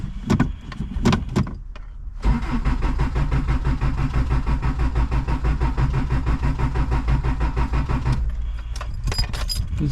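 Carbureted Toyota 22RE four-cylinder engine in a 4x4 camper truck, cranking briefly before catching and settling into a steady, slightly rough idle, close and continuous, then a few clunks at the end.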